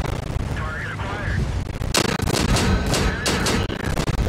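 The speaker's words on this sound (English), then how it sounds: "As you can see, there's the machine gun." Machine gun fire in the World of Tanks video game comes as a loud rapid burst of close shots after a stretch of rumbling engine and battle noise.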